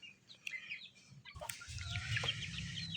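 Month-old chicks chirp and cluck up close in short peeps, growing into a denser bout of soft clucking over a few seconds.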